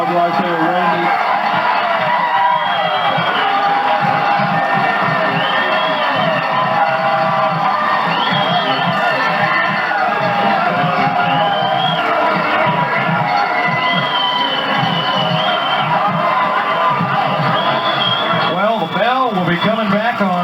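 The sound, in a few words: football game crowd cheering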